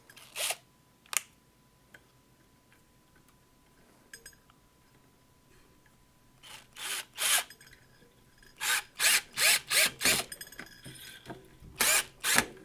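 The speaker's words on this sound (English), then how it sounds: "I'm going to do more or less the same thing on this end with anchoring the screw in." A power drill drives a screw in to anchor a string, heard as short whirring bursts that come sparse at first, then in quick repeated runs near the end, close and fairly loud with no talking.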